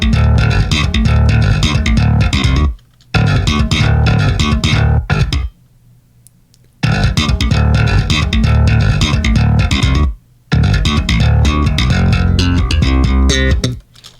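Heavy electronic bass line from a drum and bass drop, played solo and loud, with thick low end and gritty upper layers, chopped into phrases separated by brief silent gaps.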